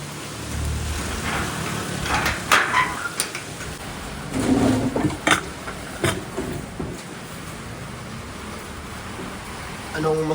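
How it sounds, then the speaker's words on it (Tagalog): A storm roars with gusting wind and rain noise, rising and falling in bursts, with occasional muffled voices underneath. "Ang lakas ng hangin yun, no?"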